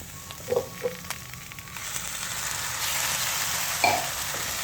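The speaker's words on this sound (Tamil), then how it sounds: "நல்லா வதக்கிக்குவோம்" Tomato paste and chili powder sauté in a pan for a broccoli gravy, giving a close, steady sizzle that builds over a few seconds, with a few light clinks and scraping stirs.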